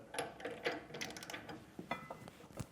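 A ratchet wrench fitted with a 1 1/8 inch socket tightens a weight distribution hitch, giving a string of close, quiet mechanical clicks in short uneven bursts with no talking.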